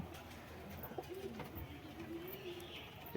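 Pigeons in a home loft coo softly in low, rolling calls that repeat several times, with faint chirps and room noise around them and no talking.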